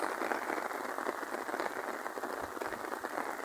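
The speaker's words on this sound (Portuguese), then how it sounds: "Oh, chuvinha boa." Steady rain falls, a soft, continuous patter of drops with an even hiss that never lets up, moderately close and fairly quiet, no voices over it.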